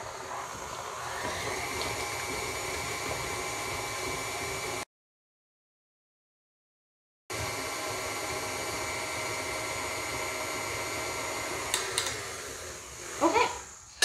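An electric mixer whirring through cookie dough with vanilla extract, a steady close drone that cuts out for a couple of seconds and then resumes, with a few rattling knocks near the end.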